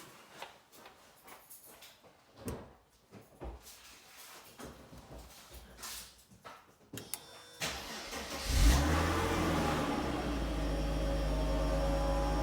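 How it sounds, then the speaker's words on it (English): Car engine cranking and catching, then settling into a steady loud idle with revving, after a battery replacement and parasitic draw testing on a car fitted with an Exide Marathon Max battery; quiet handling noises come before the start. "Start the car."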